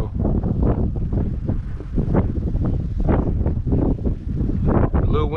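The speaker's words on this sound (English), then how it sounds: "windy out too. The wind is like 13 miles per hour today." Heavy wind of about 13 miles per hour buffeting a microphone outdoors on a boat while crappie fishing, a continuous low rumble with gusty surges throughout, loud and close.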